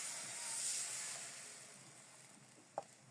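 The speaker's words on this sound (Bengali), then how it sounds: "এখন জল দিয়ে দিচ্ছি।" Water poured into a pot of foraged water spinach and lentils on a clay stove gives a faint, steady hiss that swells and then fades, ending in one small knock.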